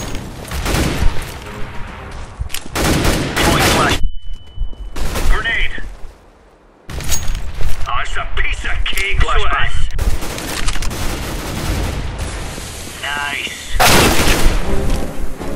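Bursts of gunfire and a grenade blast in a Counter-Strike: GO round on the Seaside map, loud cracks and volleys coming in clusters separated by brief lulls, with players talking in between.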